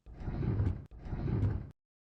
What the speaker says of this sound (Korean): 정우는 조용히 서랍을 열어 낡은 통장을 꺼내 보았습니다